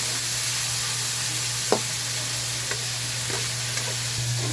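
Meat and mixed vegetables, including string beans, squash and bitter gourd, sizzle steadily in a pan for ginisang gulay, with a constant hum underneath and occasional light clicks of stirring.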